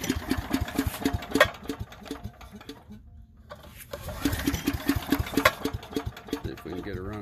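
The gasoline motor of an Agri-Fab 32 cu. ft. Mow-N-Vac 45-0577 leaf vacuum runs nearby with a steady, rapid chugging rhythm, dipping briefly in the middle before resuming at full loudness.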